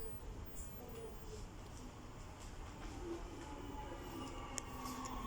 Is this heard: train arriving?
yes